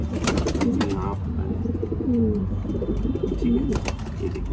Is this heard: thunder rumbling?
no